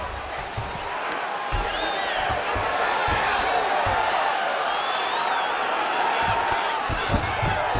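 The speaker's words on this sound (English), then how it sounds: "big pop from the crowd as they get back to their feet" Arena crowd noise in the video game UFC 5 swells steadily throughout, a broad roar with cheers and whoops, mixed with thuds of fighters scrambling on the mat.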